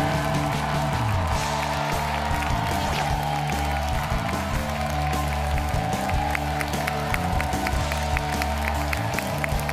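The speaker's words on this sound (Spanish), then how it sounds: "El aplauso para Banana." A TV studio audience on the masked singing show ¿Quién es la Máscara? applauds, steady crowd clapping over loud sustained music and a low rumble for about ten seconds.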